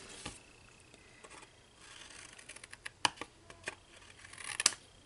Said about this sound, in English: I'm going to go ahead and cut my little marks now